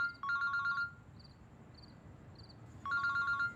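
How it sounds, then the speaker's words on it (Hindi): A telephone rings with two bursts of rapid electronic trilling tones, with short soft beeps in the pause between, clear and moderately loud with no talking. "फोन किसका आ रहा है?"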